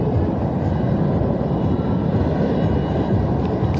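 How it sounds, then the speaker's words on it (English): Aerobatic airshow plane making a low pass, a loud continuous broadband engine roar at a desert airshow, steady over the whole stretch with no clear speech. "he will approach once more for a low-altitude aileron roll"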